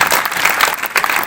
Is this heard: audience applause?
yes